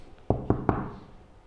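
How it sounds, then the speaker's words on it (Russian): Three sharp, evenly spaced knocks on a door, close and fairly loud, each ringing briefly before fading, with no voices. "Кто может постучаться ночью в двери Кати?"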